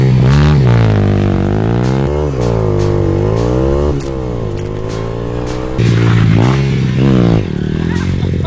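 A small motorcycle makes a standing start, its engine revving hard and climbing through several gear changes, loud and close, with pitch repeatedly rising and dropping between shifts.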